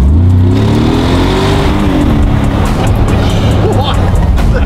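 A truck tuned with a VF Engineering twin-turbo kit, around 700 hp, accelerates hard, its engine roaring loudly up through the revs and holding a heavy, steady drone from inside the cabin.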